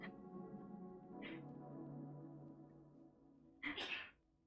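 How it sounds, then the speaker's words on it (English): A single sneeze bursts out near the end, loud and abrupt, following a stretch of quieter background sound with a soft tonal hum underneath. "I just heard him sneeze."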